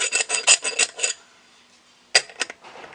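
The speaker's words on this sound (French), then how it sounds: "Donc la bague se visse en fait." Chrome finishing ring from a fixture finishing set being screwed onto its fitting by hand, giving a series of quick metallic rasping clicks, a pause, then a few more close scraping turns.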